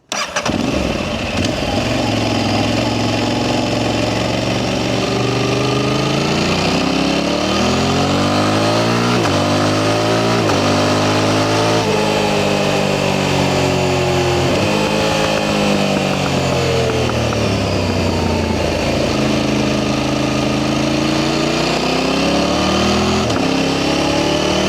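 Motorcycle engine picked up by a DJI Mic Mini stuck to the cross member under the seat: it starts, then idles and revs steadily in loud, close rising and falling swells for the whole stretch, with no talking.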